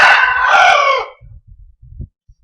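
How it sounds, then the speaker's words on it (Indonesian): A neighbour's rooster crows once, loud and fairly close, a long drawn-out call followed by scattered low clucks and soft thumps. "ayam jago tetangga tuh"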